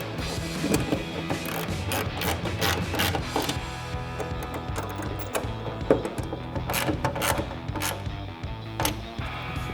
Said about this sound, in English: we'll grab our 10mm socket, tighten these down